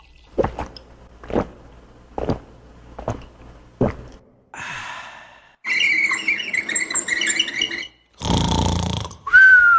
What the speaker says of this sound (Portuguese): é o som do ronco